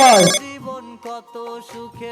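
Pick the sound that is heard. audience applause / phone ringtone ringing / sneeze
phone ringtone ringing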